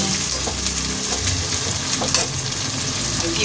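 Onions for a chicken tikka curry fry in hot oil until dark brown, giving a steady, loud, close sizzle with faint stirring scrapes and no voices.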